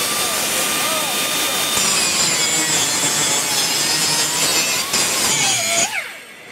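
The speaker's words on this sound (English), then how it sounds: "you literally cut an inch long weld that was probably 3/4 of an inch wide by a 1/2 inch tall" A 3M aluminum oxide abrasive tool grinds through a weld in a loud, continuous, harsh rasp. It keeps steady pressure for several seconds, then spins down near the end.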